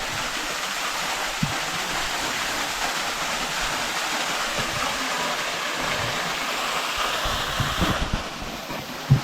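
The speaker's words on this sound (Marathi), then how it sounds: "हा सुंदर वॉटरफॉल आम्हाला मिळाला" A waterfall at Ranganagad Fort rushes in a steady, broad roar of falling water heard from nearby, with a few brief knocks and thumps toward the end.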